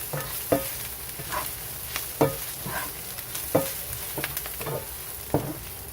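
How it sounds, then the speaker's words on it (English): Bacon crisping in a pan for Manhattan clam chowder, with a constant close sizzle broken by regular scraping strokes of a spoon stirring it about every second. "Once it starts crisping up, I'm just going to mix it all together."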